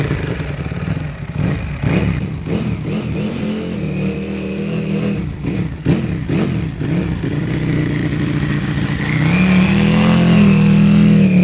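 A superbike engine, Guy Martin's favourite ever bike, revs hard and close, its pitch rising and falling in repeated surges before climbing to a loud sustained howl at the end.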